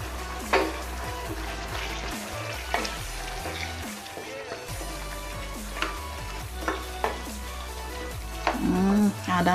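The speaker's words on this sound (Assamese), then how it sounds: "এতিয়া এই নহৰু আদা পেষ্টখিনি ইয়াত দি দিম, এইখিনি মই ইয়াত এইদৰে ঢালি দিওঁ" Ginger-garlic paste sizzles steadily in a hot pan for a pork and sesame dish, with occasional stirring scrapes and clatters close by.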